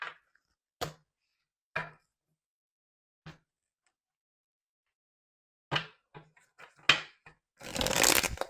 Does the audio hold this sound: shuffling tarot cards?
yes